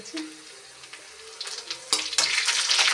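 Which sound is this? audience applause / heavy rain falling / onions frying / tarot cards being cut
onions frying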